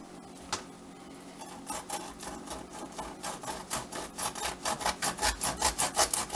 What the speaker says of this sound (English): And then I'll take and I'll also cut the tail off right here.